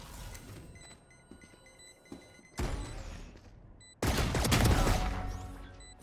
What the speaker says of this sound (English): Nice shooting, bro.